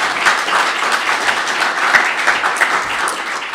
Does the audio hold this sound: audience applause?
yes